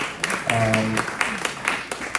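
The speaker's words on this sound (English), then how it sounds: "Let's receive the CEO of EIB Network, Mr. Bolore, with a round of applause." Audience members at a Black History Festival media launch clap to welcome a speaker, making a sparse, irregular patter of claps alongside a voice speaking over it.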